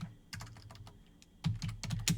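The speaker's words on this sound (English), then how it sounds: "Typing too fast." Rapid typing on a computer keyboard, a quick flurry of light plastic key clicks in uneven bursts, growing busier and louder toward the end, close up with no talking.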